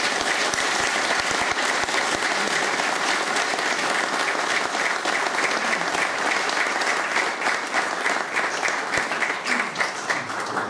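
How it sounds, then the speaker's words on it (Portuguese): A crowd at an officers' association gathering applauds, dense continuous clapping filling the whole stretch at an even, fairly loud level without letup. "o meu aplauso"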